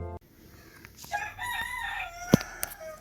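A chicken in the video game Minecraft clucks several times in short, separate bursts, with a sharp click-like hit partway through, over a quiet game background.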